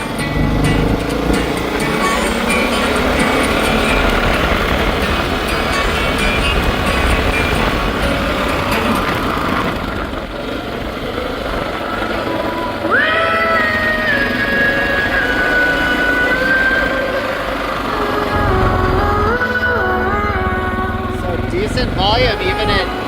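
A motorcycle rides at speed with a handlebar-mounted 800W Bluetooth speaker amplifier, a steady loud engine and wind roar running continuously under someone talking and music from the speaker.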